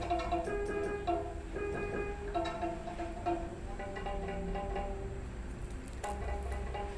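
A violin's fourth string, the low G, bowed in a school music lesson, giving repeated sustained tones with clear harmonics over a faint room background, no talking.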